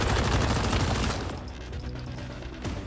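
Gunfire in the video game Once Human during a sniper fight, heavy loud shots packed together for about a second, then fading into a quieter, rumbling tail with one more sharp crack.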